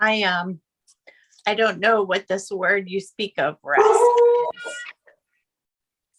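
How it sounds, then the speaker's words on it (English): A pet dog gives a short rising howl at the start and whines again later, while someone talks over most of the stretch nearby. "Sorry, that was my dog."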